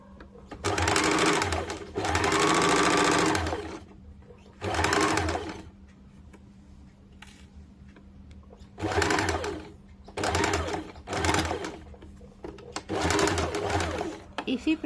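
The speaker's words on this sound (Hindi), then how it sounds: "इसको बहुत ही सावधानी से धीरे धीरे सिलाई डालना है" A sewing machine stitches bias-cut fabric for a churidar in several short runs of steady whirring, with pauses between them in which someone speaks.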